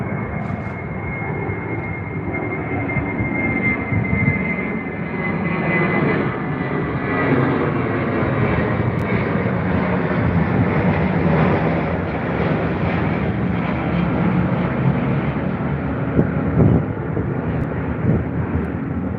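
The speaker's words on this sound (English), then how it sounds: "I don't know if you guys can hear the roar of those engines over there, but my God, are they strong." Airliner jet engines roar steadily at Heathrow airport, a loud, sustained broadband rumble with a high whine that swells as the aircraft powers up, mixed with wind buffeting the microphone and no talking.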